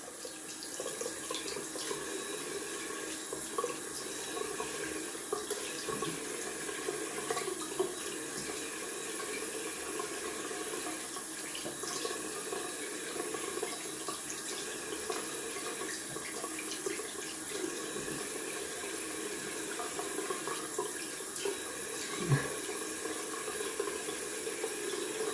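Tap water running into a bathroom sink, used to rinse the face after wet shaving off a month of beard, a constant soft splashing stream with small bumps of hand movement, quiet and close, without talk.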